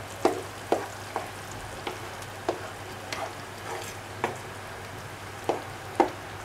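Chopped tomatoes, a chili pepper and raw garlic cooking in a pan for an okra and lamb stew, giving a soft steady sizzle marked by a few sharp clicks and taps of a utensil, with no talking.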